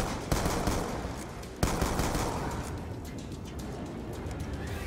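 Shotgun fire in the video game Black Ops 2: two sharp, loud blasts about a second apart over a dense, constant roar of battle noise.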